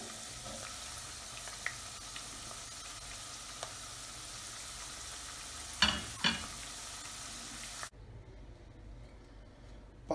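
Potato slices fry in hot oil for a potato and onion moussaka, giving a steady close sizzle with a few clinks and stirring knocks. The sizzle suddenly drops to a quieter hiss near the end.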